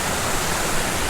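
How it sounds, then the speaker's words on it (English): Water spills over a small artificial waterfall into a pool below, producing a steady, loud, hissing rush that stays even throughout, with no voices over it. "Waterfalls are always fun to fish, even if they're artificial"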